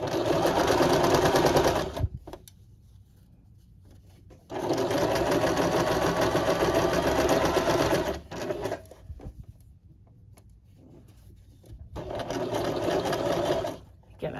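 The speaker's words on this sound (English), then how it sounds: "I like to sew right up to my pins before I take them out." A sewing machine stitches a crotch seam in three loud bursts of rapid whirring, each running a few seconds and separated by quiet pauses.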